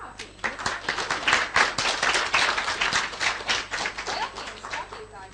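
An audience at a Latvian awards event claps in sustained, dense applause that swells and stays loud across the clip, with voices faintly mixed in.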